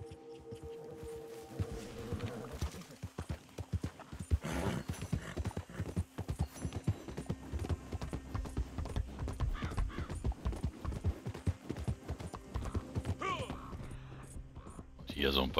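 Horse hooves clip-clop in Red Dead Redemption 2 online, a busy run of close hoofbeats with a neigh, while someone talks over the game sound.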